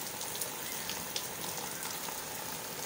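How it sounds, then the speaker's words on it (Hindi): Heavy rain pours down outside a house gate where a motorcycle stands getting soaked, a dense, constant hiss of drops striking surfaces close by, with no talking. "बहुत तेज़ गाइस बारिश हो रही है।"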